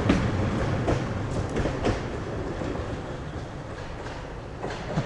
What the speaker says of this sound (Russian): Ой, трамвайчик 12-й.